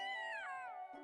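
A goblin in a .hack video game gives a single drawn-out, cat-like meow with a wavering, falling pitch, close and clear, ending in a short soft thud.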